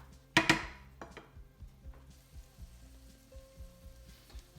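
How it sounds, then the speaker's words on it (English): Onions cooking gently with salt in a pan, a low, quiet sizzle that opens with a couple of sharp utensil knocks and then settles into soft stirring taps. "we just want to cook the onion with no colour"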